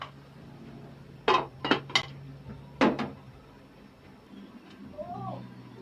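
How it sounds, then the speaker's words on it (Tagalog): Metal pot lid clanks several times as it is set back onto a cooking pot of pinakbet vegetable stew, sharp clinks spaced over a few seconds, followed by a soft low sizzle and a brief voice. "takpan natin siya ulit para ay maluto yung ating huli natin nilagay na gulay"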